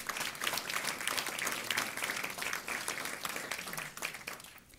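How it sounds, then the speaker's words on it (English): Steady, dense applause from a school board meeting audience for high school fine arts students, sustained for several seconds and fading slightly at the end. "a big round of applause to our fine arts students at Dulles High School"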